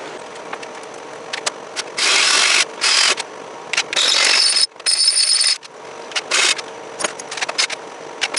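Bolting the bumper back onto a Hazzard County sheriff-themed lawn mower in a garage shop: bursts of ratcheting wrench clicks, several sustained runs of a few seconds each with short pauses, fairly close, over low room noise.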